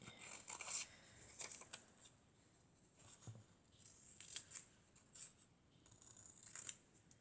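Scissors snipping, a series of short crisp cuts coming in irregular bursts with pauses in between, close up and fairly quiet.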